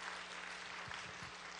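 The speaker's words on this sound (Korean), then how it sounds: "하나님 앞에 영광의 박수 올려주세요" Church congregation clapping in praise during a Korean worship service, a steady, dense wash of hands filling the whole moment at moderate distance.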